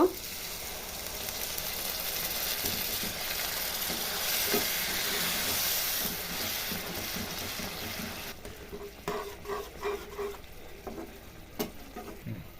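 Egg curry spice paste sizzles loudly and steadily in a hot pan, then the hiss drops and breaks into softer, uneven bubbling and stirring knocks once a little water is poured in.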